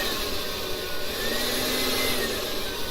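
A heat gun blows a steady, loud rush of hot air over poured resin, a continuous even whoosh with no breaks and no voices.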